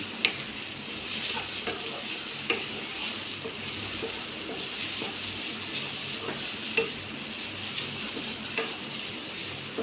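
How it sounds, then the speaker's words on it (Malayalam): Grated coconut being stirred and toasted in a pan for jackfruit seed laddu: a steady soft sizzle with light scraping strokes and occasional sharper clicks of the spoon against the pan, close and continuous, with no talking. "നന്നായിട്ട് ഇളക്കി കൊടുക്കണം"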